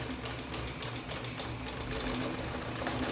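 A sewing machine runs a short backstitch at the end of a seam on a small fabric backpack, a quick rapid rattling burst heard close up.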